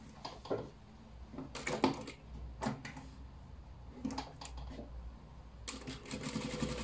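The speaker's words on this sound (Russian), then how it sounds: "и начинаю строчить." A sewing machine stitches through fabric and padding while making shoulder pads, running in short uneven bursts with brief pauses and small knocks between runs, close and fairly quiet, with no talking.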